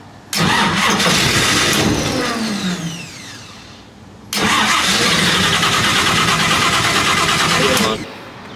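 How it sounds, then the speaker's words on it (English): A hot rod engine cranks and catches twice, each start roaring up loudly and holding a steady rough idle for a few seconds before cutting off, with a brief quieter gap between the two runs. "So hit the start, and it should start."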